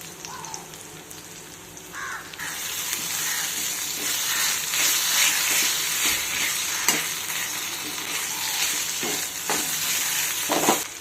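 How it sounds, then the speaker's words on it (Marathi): Onion and chili fry with ginger garlic paste in a pan, giving a steady close sizzle with stirring scrapes, while crows caw faintly in the background and no one speaks. "याच्यामध्ये आपण आलं लसूण पेस्ट टाकून घेऊया."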